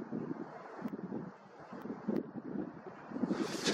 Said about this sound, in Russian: Ну, сильный ветер.